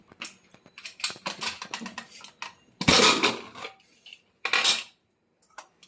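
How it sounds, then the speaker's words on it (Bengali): A pressure cooker of boiled mashkalai (urad) dal is opened, giving off metallic clanks and clattering lid rattles in several close bursts separated by short pauses, with no talking. "প্রেসার কুকারটা খুলে দেখাই তোমাদের কেমন হয়েছে"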